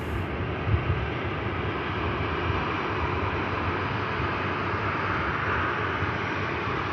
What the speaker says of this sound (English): And the Norse UK Dreamliner for Bridgetown is on the way out now.